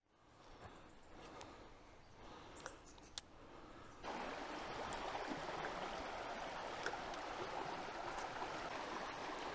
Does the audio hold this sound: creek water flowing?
yes